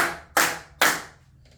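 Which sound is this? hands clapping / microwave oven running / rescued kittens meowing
hands clapping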